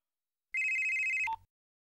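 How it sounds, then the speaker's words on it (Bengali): A single short electronic telephone ring, a steady bright tone lasting under a second that ends with a brief click, alone and clear. "ফোন বাজছে, কথা বলে নাও"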